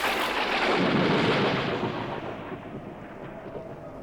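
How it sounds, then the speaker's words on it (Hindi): Thunder cracks through a stormy night in a Zee TV drama as one loud, broad rumble that swells at first, then slowly rolls away and fades over a few seconds. "बीच बीच में बिजली कड़क रही थी।"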